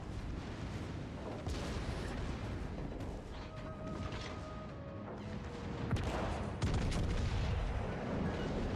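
Bismarck battleship secondary guns firing in a naval warfare video game, a steady stream of overlapping booms and rumbling gunfire, loud and dense, with distant impacts and a faint tonal whine partway through.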